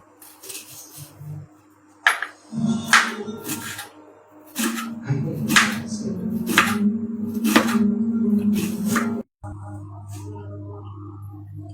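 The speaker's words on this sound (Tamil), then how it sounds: "வெங்காயத்தையும் தக்காளி வந்து கட் பண்ணி எடுத்துக்கலாம்" Knife chopping onion into small pieces on a cutting board while making bread chilli: a series of about eight sharp, close chops at a steady rhythm over a low background hum, ending abruptly.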